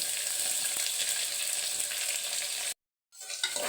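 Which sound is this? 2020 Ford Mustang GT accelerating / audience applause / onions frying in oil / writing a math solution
onions frying in oil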